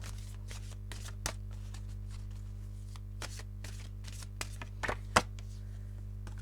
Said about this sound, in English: These are massive cards, they're so hard to shuffle.